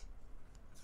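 A Vosteed Thornton folding knife on ceramic bearings is flicked open with its front flipper, giving two brief, crisp, zipper-like snaps in an otherwise quiet room.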